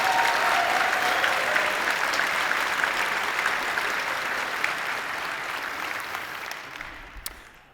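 A large convention audience at a gaming fanfest claps loudly and steadily, the applause slowly thinning and fading toward the end.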